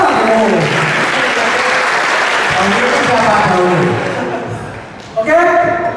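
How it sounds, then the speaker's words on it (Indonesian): A room full of students applauds together in a steady, close wash of clapping that tapers off before a voice begins speaking. "Tepuk tangan dulu."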